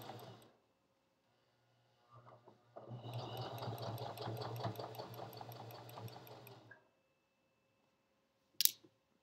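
A sewing machine stitches fabric for a bowl cozy, starting with a few short bursts, then running in one steady whirring stretch of several seconds before stopping for a pivot at a corner, followed by a sharp click.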